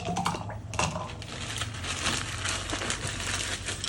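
Ice cubes dropped into a drink, a quick series of bright clinks and crunchy rattles close by, heard over a busy background hum.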